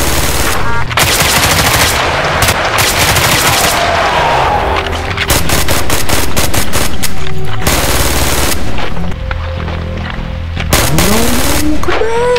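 Gunfire in the Roblox game Hellmet, loud rapid automatic bursts and single shots in clusters, close and dominant, with brief pauses between volleys.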